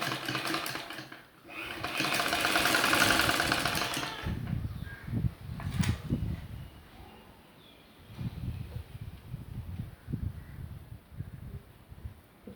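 A normal home sewing machine stitches a sleeve onto a readymade kurti, starting with a steady whirring run that fades into softer, intermittent stitching and handling noises, close up.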